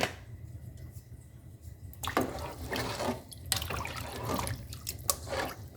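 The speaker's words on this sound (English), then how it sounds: "you put in some water" Water poured into a pot of pepper soup with meat, onions and seasoning, a close trickle and splashing that starts abruptly and continues with drips and bursts, no voices.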